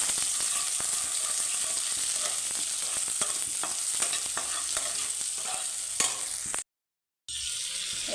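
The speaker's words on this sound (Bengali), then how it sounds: "প্রথমে আমি পেঁয়াজ রসুনটা ভেজে নিচ্ছি।" Onion and garlic fry in a pan with a steady crackling sizzle, punctuated by scraping stirs, before a brief moment of total silence and then the sizzle returns.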